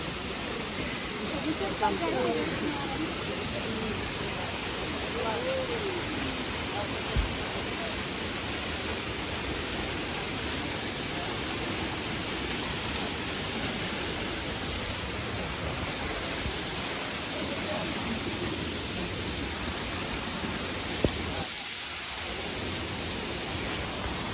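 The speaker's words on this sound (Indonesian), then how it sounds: "Udah sampai guys ke air terjun ini lagi" A waterfall roars as a steady, broad rushing wash of water that fills the whole scene and stays constant throughout, with faint voices barely audible beneath it.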